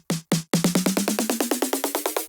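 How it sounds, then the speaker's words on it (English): A snare drum with rising pitch automation in an electronic track build: two separate hits, then a fast steady roll of crisp strikes whose tone climbs steadily toward the end, close and dry with no voices. "So I've just created a pitch automation as well"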